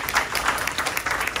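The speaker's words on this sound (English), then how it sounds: "give her a round of applause" Audience clapping at a town hall on gun violence prevention, a brief burst of dense applause welcoming a speaker to the stage.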